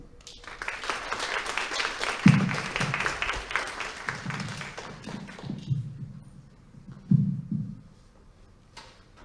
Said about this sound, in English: Please give me help in a round of applause for our speaker, Mr. Aaron Seal.